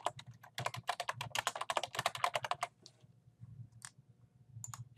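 Fingers type rapidly on a computer keyboard in a dense burst of quiet clicks for about three seconds. A few isolated key taps follow, and the room is otherwise still, with no voice.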